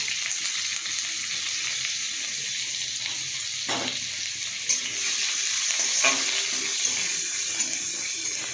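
Onion and garlic sizzle in a pan with salted tomatoes and greens for dal, giving a continuous hissing fry with occasional stirring knocks, steady and close throughout.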